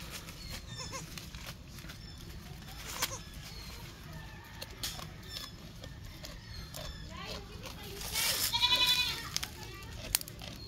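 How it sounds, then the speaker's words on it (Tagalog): A large goat bleats on a farm beside its one-day-old kid, several short cries scattered through the stretch with one louder bleat late on, while people talk nearby. "Malaking kambing."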